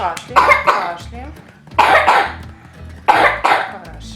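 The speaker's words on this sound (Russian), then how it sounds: "Кашляем, кашляем." Repeated coughing from a person receiving a chest drainage massage done with olive oil, several loud coughing bursts in clusters separated by short pauses, close and dry.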